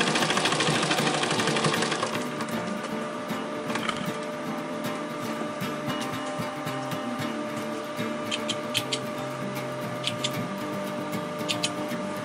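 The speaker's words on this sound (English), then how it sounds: "sewing machine" Straight stitch sewing machine running on an organizer project: a fast, loud mechanical rattle for the first two seconds, then quieter handling noise with a few small clicks and taps.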